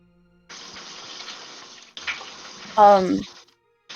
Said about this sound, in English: I was refilling my water thing in the kitchen there